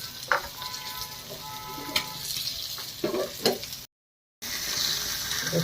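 Tomato and onion fry in a pan with a steady close sizzle and scattered utensil scrapes and clicks, cut by a brief silent gap before the frying resumes.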